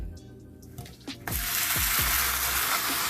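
A birria quesadilla hits a hot pan after being flipped. A few soft thumps are followed by a sudden loud, steady sizzle that holds close and bright to the end.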